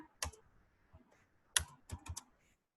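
Several sharp key clicks from a computer keyboard as a command is entered during network configuration work, a few isolated taps followed by a quick cluster of keystrokes, close and fairly quiet.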